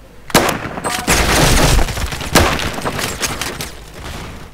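Gunfire in the Roblox game Phantom Forces, with loud sharp shots and rapid bursts, several close blasts with booming tails fading over a few seconds.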